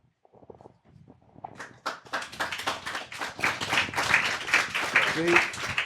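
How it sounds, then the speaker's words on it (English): Scattered claps from a panel audience at an event on COINTELPRO, starting sparse and hesitant, then swelling into moderate, uneven applause that is never full, with a voice heard along with it. "even on that, I got some half applause"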